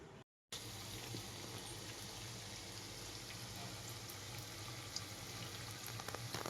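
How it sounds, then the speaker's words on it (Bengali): Onions frying in a pan while biryani is being prepared, a faint, steady sizzle with soft crackles running throughout, heard alone without talk. "গরমে পেঁয়াজ ভাজা হচ্ছে"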